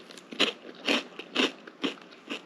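Crunchy topping on steamed rice rolls (banh cuon) bitten and chewed up close, giving about five sharp crunches in a steady rhythm with no talking.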